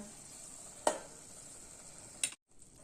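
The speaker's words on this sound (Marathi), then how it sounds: "आता आपण परतून घेऊया, अशी खालीवर करून घेऊया" Tandulka greens stir-fried in a pan give a soft, steady sizzle, broken by two sharp scraping knocks of a spatula before a sudden brief drop to silence.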